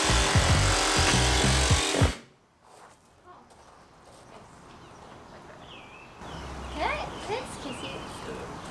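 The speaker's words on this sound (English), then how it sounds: "I should just trim this aluminum that's sticking up." A power tool trims protruding aluminum on a food trailer build, a loud, dense buzzing rasp for about two seconds that stops abruptly, leaving faint background ambience and distant light sounds.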